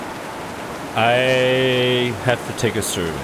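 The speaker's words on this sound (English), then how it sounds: "That rain is so freaking loud." Loud rain in a scary video game makes a steady broadband hiss throughout. Someone speaks over it partway through.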